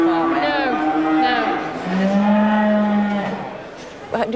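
Cattle at a cattle market low loudly and close by in long drawn-out moos, one call sliding into the next over about four seconds, with a faint clatter at the end.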